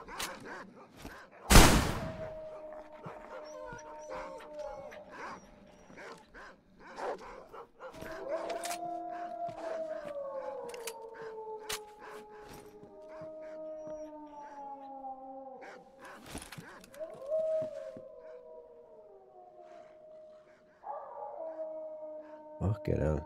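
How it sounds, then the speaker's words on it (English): Distant howling carries through a STALKER roleplay game, long wavering canine howls that slide and overlap across the stretch under occasional sharp bangs and noises. "The howling in distance is the worst part."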